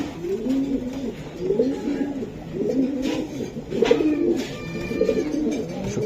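Large racing pigeons coo in repeated low, throaty phrases, several birds overlapping close by with a steady rhythm and brief pauses, no talking.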